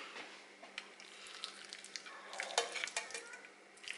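Chicken breasts fry in hot oil in a pan, with a faint, uneven sizzle broken by crackles and light utensil clinks, quiet and close.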